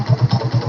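A Splendor motorcycle with one owner and its engine in good condition idles close by, giving a brief, steady run of low, even thumping pulses with no voices over it.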